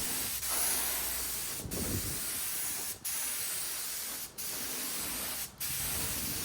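A paint sprayer hisses in long continuous bursts as off-white paint is sprayed onto furniture, each close, loud spray cut by four short pauses.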